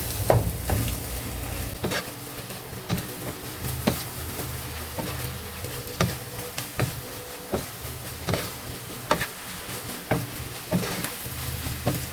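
Bitter gourd (ampalaya) being stirred and sautéed in a pan for ginisang ampalaya with egg, a steady sizzle broken by regular sharp scrapes and clinks of the utensil against the pan, close and fairly loud.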